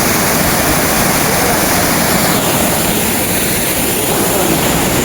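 Water pours down inside a cave in Maasin City, a loud, close, unbroken rushing roar filling the space, with faint voices underneath.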